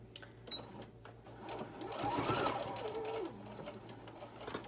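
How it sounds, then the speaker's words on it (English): A sewing machine stitches around the edge of a minky tag blanket, starting softly, swelling into a louder run of stitching in the middle and then easing off, close by with no talking. "I'm gonna just start sewing all the way around."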